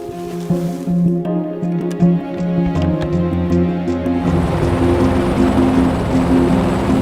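A helicopter's rotor thrums steadily with a droning engine whine, growing louder and denser partway through as it seems to draw nearer.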